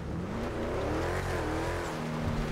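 A car engine revs hard in GTA V on a FiveM server, its pitch climbing and sliding as the car accelerates, loud and close throughout with a faint tire squeal and no voices.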